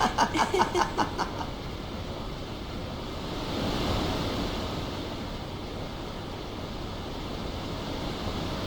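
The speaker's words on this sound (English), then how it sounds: "The wind. It's nice." Steady wind and breaking ocean surf on a beach in the game Final Fantasy X, a soft continuous wash that swells slightly midway, with a brief run of rhythmic pulses at the start.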